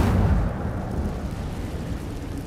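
An Incendio fire spell in the Hogwarts Legacy video game erupts in a loud, roaring burst at the start, then fades into a steady crackling, rushing noise.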